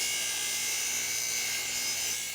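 A TaylorMade golf club shaft is trimmed an eighth of an inch shorter, with a steady, loud, high-pitched mechanical whine that runs unbroken throughout.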